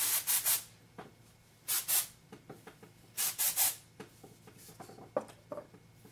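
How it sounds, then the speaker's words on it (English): Fingertips rubbing dry shampoo into the scalp make soft, close scratchy swishes in uneven clusters of two or three strokes, with quieter rustling between bursts and no talking. "I'm just taking my fingertips and literally just rubbing it into my scalp."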